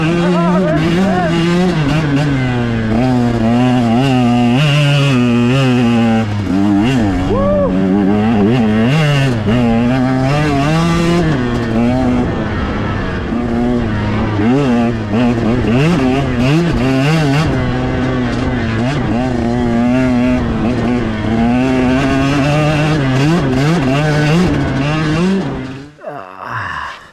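A 2021 KTM 125XC two-stroke dirt bike climbs a steep, rocky hill, its engine loud and close, revving hard with constant rising and falling pitch, then cutting off abruptly near the end.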